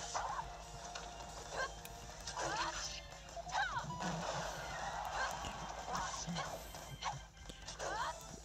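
A duck from the Super Smash Bros video game honks repeatedly in short, nasal calls spread through the stretch, mixed into busy game music and effects at moderate level.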